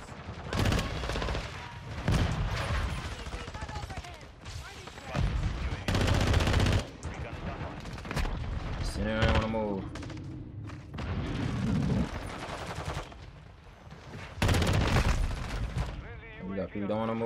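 Rapid gunfire from an FR Avancer rifle in Call of Duty MW2 multiplayer, with repeated loud bursts and volleys crowding the whole stretch and a short stop-start rhythm, heard in dense game audio.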